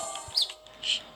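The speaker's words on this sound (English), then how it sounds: "You can hear some screaming in the background." A baby parrot screaming in the background of a room, two brief, shrill, high-pitched calls at moderate distance over a quiet hum, with a third starting at the end.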